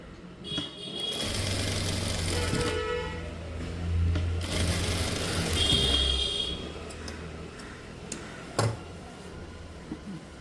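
A sewing machine double-stitches a blouse seam in bursts of humming motor and needle clatter, with brief pauses and a few clicks, fairly close.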